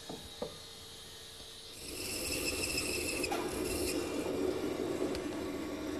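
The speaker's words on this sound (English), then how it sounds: "Now I'll swing the miter box to 0 and make the final cut." A hand saw in a miter box cuts redwood for a trestle-style project, a few bumps followed by steady rasping strokes of moderate loudness, no voices.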